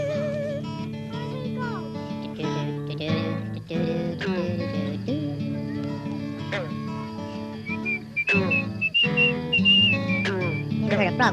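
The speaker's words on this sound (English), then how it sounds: "Never heard a frog whistle before, did you?" A frog makes a whistling call, heard as a thin, high, wavering whistle over music and a talking voice, with the clearest whistle tones rising near the end.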